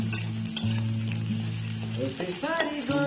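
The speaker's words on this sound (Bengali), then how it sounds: "ডিমটা ভাজা ভাজা করে নেব।" An egg fries in a pan with a steady, close sizzle, marked by occasional clicks and scrapes of a utensil and a low tonal hum beneath.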